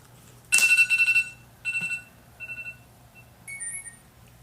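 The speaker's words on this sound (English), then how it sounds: "That's my alarm letting me know I've gone too far." A phone alarm going off, rings out in several short bursts of repeated electronic beeping with pauses between them, fairly clear over a quiet background hum.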